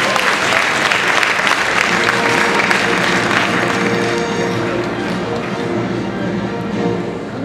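Sustained applause from a crowd at an equestrian show-jumping prize ceremony in Paris, dense clapping under a tonal musical layer, with a voice faintly present beneath it.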